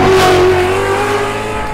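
A Formula D drift car revs hard in the burnout box at Wall Speedway, a loud close engine roar with a rising whine that settles into a steady high drone.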